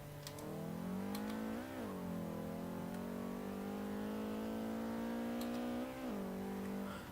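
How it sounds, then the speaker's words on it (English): A Nissan 240SX engine in Forza Horizon 3 pulls from second gear, a steady loud drone climbing in pitch with gear changes around two and six seconds, heard alone up close. "I'll let you listen to the car while I accelerate a little bit on the way down to the roundabout"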